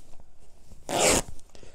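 Quilting cotton fabric is torn by hand in a single quick, close ripping burst that lasts about a third of a second, with faint handling noise before and after.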